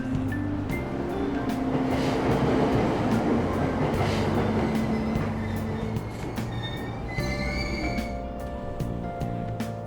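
A commuter train in the Persona 5 Royal video game rumbles steadily with rail noise and clatter for about ten seconds, with tonal chimes and hums layered over it and no talking.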